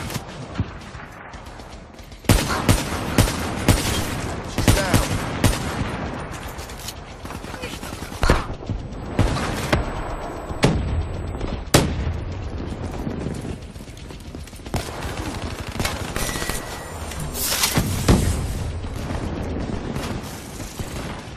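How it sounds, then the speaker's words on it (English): In a military shooter game, a grenade blast and gunfire bring sudden loud, sharp bangs and bursts of shots over a noisy battle background, mixed with radio-style voices. "Grenade!"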